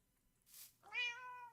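A single Minecraft cat gives one clear, close meow after a brief soft breathy sound, with near silence around it.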